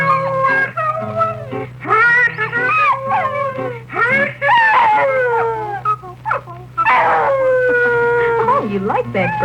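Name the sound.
dog howling along with a song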